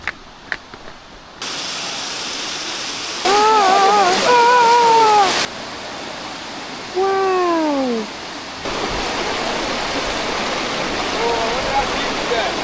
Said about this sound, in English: Tumpak Sewu Waterfall. Another amazing sight of Indonesia.